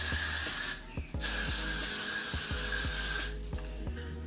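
Two long hissing bursts of hair spray from an aerosol can, close and loud, separated by a brief pause, over a steady low hum.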